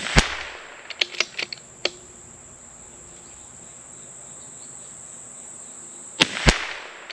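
Rifle shots ring out from Aguila match ammunition: sharp, loud cracks in a quick cluster of about five, then a pause over a steady cricket chorus, then two more reports close together.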